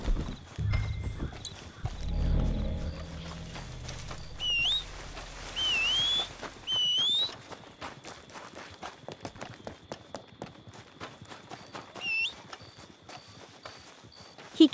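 Hooves clip-clop steadily as a horse moves along in a video game, with a few high bird-like chirps and a low rumble early on; no talking.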